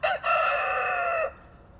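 A single loud rooster crow close by, a short clipped start then a long sustained cry lasting about a second before fading to quiet.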